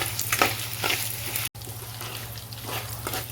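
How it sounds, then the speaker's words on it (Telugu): Whole spices with nutmeg, mace, cloves, cinnamon, cardamom and dried red chillies dry-roast in a pan for a prawn pickle, crackling softly with repeated scraping stirs and a brief break midway. "జాజి పువ్వు, జాపత్రి, ప్లస్ ఇది లవంగములు, దాల్చిన చెక్క, యాలకులు, ఎండుమిరపకాయలు ఇవి కొంచెం మాడిపోకుండా దోరగా వేయించుకోవాలి"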